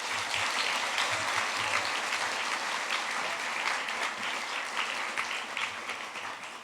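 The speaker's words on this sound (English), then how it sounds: "Let's give a round of applause for the 6th grade." A school audience claps steadily for sixth grade students at a middle school closing ceremony, dense applause filling the room throughout and tapering slightly toward the end.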